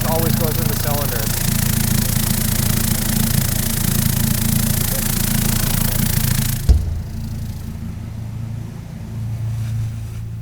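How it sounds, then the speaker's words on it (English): A tumbler loaded with pen parts in its cylinders churns with a loud, steady rumble under a voice, then cuts off with a thump, leaving a low hum. "throw these in the tumbler as I'm going to get my other stuff ready"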